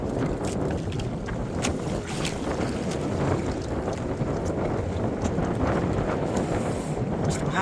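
Wind roars at sea aboard a fishing boat, a constant loud rush over the engine and water, with faint talk beneath.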